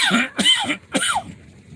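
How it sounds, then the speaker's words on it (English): A man coughs in a quick cluster of about three harsh, close bursts, followed by quiet breathing. "now I just coughed"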